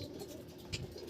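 A racing pigeon coos softly at close range during summer race training in Ibaan, Batangas, with a low, murmuring burble that carries through the brief moment.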